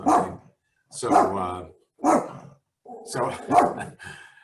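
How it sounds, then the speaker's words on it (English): Repeated barking from a dog in the background, four bursts spread out with short pauses, fairly strong and close, the last burst a doubled bark. "I would like my dog to not bark anymore"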